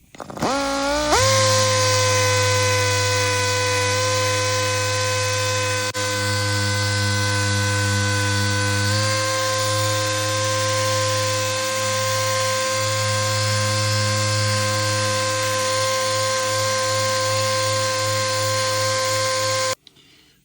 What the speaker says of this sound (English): 3000 grit, soft pad 3000, and we go over the top of that.